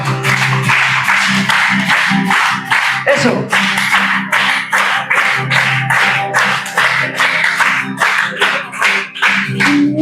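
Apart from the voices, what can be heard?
congregation clapping along to music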